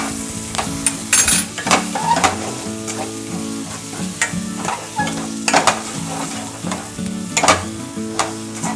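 Red chili powder sizzles and fries in a thin steel pan while being stirred, a steady crackling hiss broken by scraping stir strokes, close and fairly loud with no talk.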